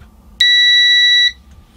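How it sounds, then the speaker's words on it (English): A digital multimeter set to continuity test on a brushless motor controller's wiring gives one steady, loud, high-pitched beep lasting about a second, alone in a quiet room. "I'm going to use my meter here using the continuity test"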